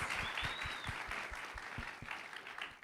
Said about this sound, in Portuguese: eu queria uma salva de palmas para essa palestra super legal aí dos rapazes